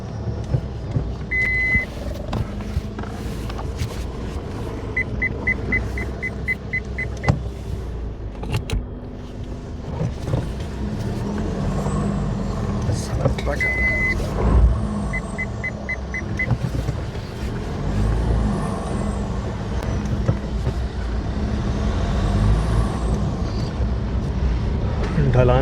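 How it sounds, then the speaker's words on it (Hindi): A truck comes down a slope on a forest road toward a car that is backing up, with steady close engine rumble throughout and two runs of rapid reversing beeps. People talk over the engine noise. "ढलान पे एक ट्रक आ रहा था और उसके सामने हमारी गाड़ी बैक हो रही थी।"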